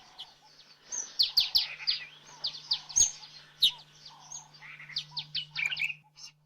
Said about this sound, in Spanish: Este espectacular pájaro sol es una de las más de 60 especies de aves que ya hay en el Parque Ado.